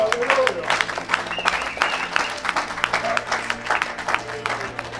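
A church congregation applauding in a continuous crowd roar of clapping and cheering, with voices and background music mixed in throughout.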